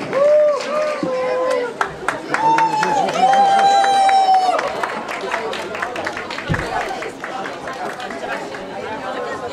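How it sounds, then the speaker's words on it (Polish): Audience applause with cheering and crowd chatter at the closing ceremony of a Warmian-Masurian seniors' festival in Olsztyn, a steady clatter of claps under raised voices and loud sustained tones. "Wielkie brawa, proszę Państwa"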